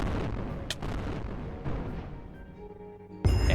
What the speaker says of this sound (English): Okay, use the red cannon.